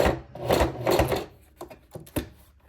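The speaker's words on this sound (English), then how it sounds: "I'm gonna baste it on to the front of the bag." A sewing machine stitches a leather piece onto the front of a leather bag, running in a few short buzzing bursts and then fading into sparse, faint clicks and taps, with no talk.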